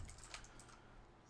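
Computer keyboard typing during a coding tutorial, a soft run of quick, light key clicks over faint background hiss with no talking.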